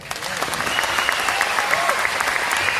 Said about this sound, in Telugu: ఒప్పుకుంటే క్లాప్స్ కొట్టండి.